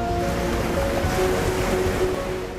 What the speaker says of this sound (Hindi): लहरों का शोर